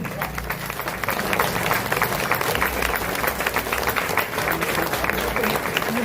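A crowd applauds continuously at an award felicitation ceremony honouring a Maharaj in Ambajogai, with dense, sustained clapping throughout and voices faintly mixed in beneath.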